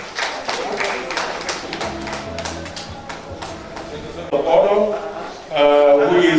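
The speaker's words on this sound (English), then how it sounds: "Can we give her a round of applause, please?" Audience applause at an investiture ceremony, a spread of steady hand claps from a crowd mixed with a voice over a public address system, building louder toward the end.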